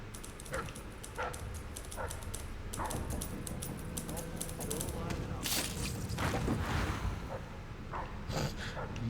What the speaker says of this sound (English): The dog is like, what, smelling me through the wall or what?